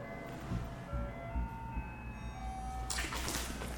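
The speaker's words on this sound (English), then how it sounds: "It's gotta be the ice cream truck right out here." An ice cream truck plays its tune outside an abandoned house in Detroit, thin melodic notes drifting in from the street under a wash of background noise.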